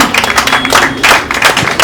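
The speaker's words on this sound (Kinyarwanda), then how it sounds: "mumfashe tumukomera amashyi" A crowd welcomes James Sonzu at an Akejo media event at Bella Bella with dense, steady applause and loud, close clapping that carries on without a break.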